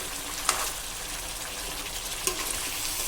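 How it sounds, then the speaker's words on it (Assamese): Broiler chicken leg pieces fry in a pan with white mustard seeds, giving a steady, dense crackling hiss throughout, with a couple of sharper pops standing out. "লেগ পিস কেটা যেহেতু অলপ ডাঙৰ হয় সেইকাৰণে অলপ সময় মই ভাজি আছো"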